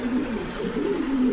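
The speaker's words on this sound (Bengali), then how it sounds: "গোপালগঞ্জের বড় পায়রা।" Large Gopalganj pigeons give a steady, low cooing throughout, several birds close by, continuous and moderately loud with no talk.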